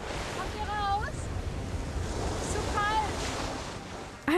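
Ocean surf rushes at a beach with steady wave wash and wind noise, while voices talk faintly over it.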